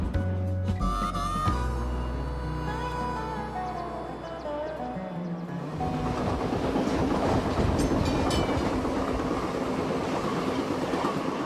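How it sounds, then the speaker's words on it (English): A passenger train runs on rails through the Colorado Rockies near Byers Canyon and Troublesome Valley, picking up speed. A deep rumble gives way to a dense, loud rolling clatter of wheels on track. "we notice the train has picked up speed"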